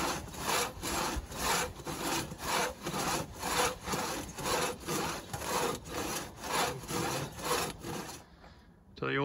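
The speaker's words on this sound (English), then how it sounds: "Here is an old crosscut saw." Old, somewhat rusty crosscut saw cutting through wood outdoors, about fifteen regular back-and-forth rasping strokes in a steady rhythm, close and fairly loud, before stopping abruptly.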